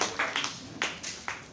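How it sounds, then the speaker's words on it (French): A church congregation claps together for Jesus during a Sunday service, producing a brief, close run of irregular handclaps that trails off. "on acclame pour Jésus"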